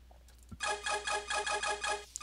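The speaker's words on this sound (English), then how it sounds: "I do really like the thief sound individually, but, and it's the same sound over and over." Thief sound effect from the video game Chip's Challenge, a bright electronic warbling chirp that repeats in about seven quick even pulses, close and clear, with no talk over it.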